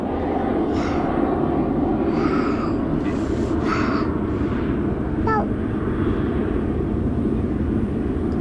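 A fixed-wing airplane drones steadily overhead at a Florida beach, a broad, even rumble that fills the whole stretch, with crows cawing and people talking faintly in the foreground.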